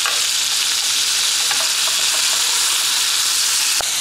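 Bacon-wrapped turkey sizzles loudly and steadily on a griddle pan, a dense close hiss of frying fat with faint crackles and one brief knock near the end.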